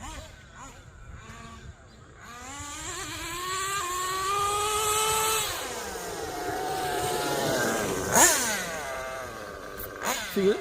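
A Kyosho USA-1 Nitro V2 RC monster truck's nitro engine screams at full throttle, its loud, close whine climbing steadily in pitch as it revs and shifts up into third gear, with voices underneath.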